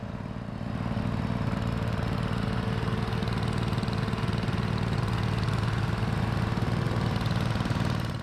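A lawn mower engine on a homemade contraption runs steadily at a rough, throbbing idle, loud and close, holding one pitch throughout with no talk.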